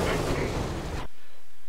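In the pixel-art pirate game Pixel Piracy, a ship blows up in a loud, roaring rush of noise lasting about a second, then cuts off abruptly into near silence.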